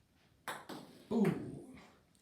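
An indoor golf shot through a house toward a master bathroom: a ball strikes and ricochets off a door, giving a few sharp knocks and a brief ringing ping, fairly quiet with faint room noise around it.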